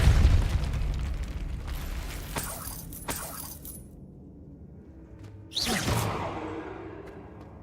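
The Depulso spell is cast in a Harry Potter video game, giving a booming whoosh and burst followed by a quieter lull, then another sweeping rush and crackle.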